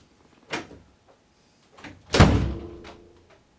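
Door being swung open and shut after its sticking top hinge was adjusted: a soft bump early on, then a firm loud thunk as the door closes, its resonant rumble fading over about a second.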